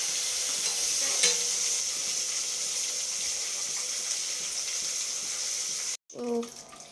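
Curry leaves and turmeric sizzle and crackle steadily in hot tempering oil, a continuous close hiss that cuts off abruptly near the end before a brief rustle.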